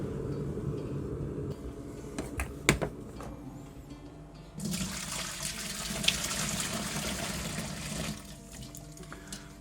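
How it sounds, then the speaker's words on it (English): A couple of litres of hot water pour into a home-brew beer fermenter, a steady splashing rush that swells louder partway through and runs continuously, close by with no talk. "that's a couple of litres of hot water going in there"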